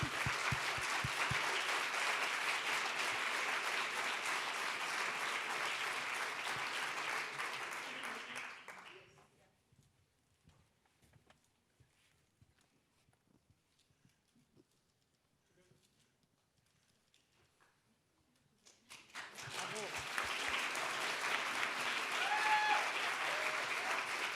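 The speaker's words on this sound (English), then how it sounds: "maybe another applause for our team" Audience applause at the Berlinale independent juries award ceremony: a dense burst of clapping for about nine seconds fades to near silence, then a second wave of applause swells back in, loud and full.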